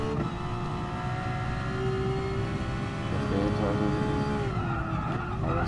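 In Gran Turismo Sport on the Nordschleife, the tires of a Porsche 911 GT3 RS skid and squeal loudly and continuously over the racing engine's drone.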